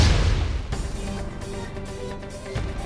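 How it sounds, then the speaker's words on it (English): A heavy explosion rips through a hangar in a Xenoblade Chronicles 2 cutscene, a loud initial blast giving way to a sustained rumbling roar and debris noise that fades gradually. "Explosion in the hangar!"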